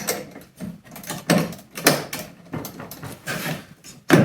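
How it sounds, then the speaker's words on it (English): Negative battery terminal on a car being loosened and pulled off with a 10 mm wrench: close, irregular metallic clicks, scrapes and clunky handling sounds with short pauses between them. "step one is going to be to disconnect the negative terminal from the battery so that I don't accidentally short anything out"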